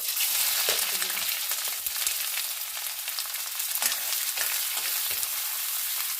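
Chopped onions fry in a pan with bay leaves, dried red chillies and panch phoron, giving a steady, close sizzle throughout, with a few soft scrapes of stirring.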